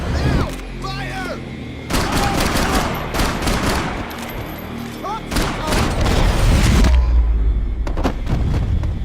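Video game gunfire from Max Payne 3 cracks in repeated bursts and sharp shots amid loud action, with shouting voices and other game sounds mixed in.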